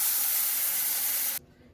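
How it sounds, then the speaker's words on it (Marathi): Water hits a hot cooking pan and flashes into a loud, bright hiss that holds for over a second, then cuts off abruptly to near silence. "पाणी टाकणार,"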